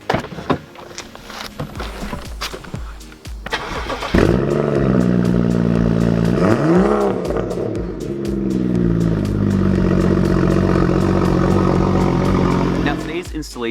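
A 2013 BMW F30 335 starts up with a burst of clatter, then its engine settles into a steady idle and revs as the car pulls away, loud and close throughout.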